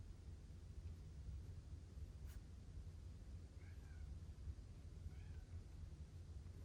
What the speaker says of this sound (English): My cat is meowing like crazy right now